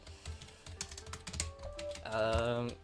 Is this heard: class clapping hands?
no